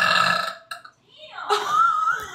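A loud, long burp rumbles in the first half-second, followed by brief voices and a child's high-pitched talk.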